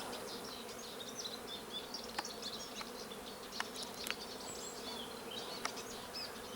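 Honeybees fly around a hive in a steady, close buzzing drone, with the sharper whine of single bees passing near now and then, heard on their own without speech.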